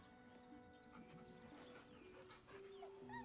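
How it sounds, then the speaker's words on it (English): A dog whimpers and whines softly in Baldur's Gate 3, faint thin cries over a quiet game soundtrack. "The dog whimpers nervously"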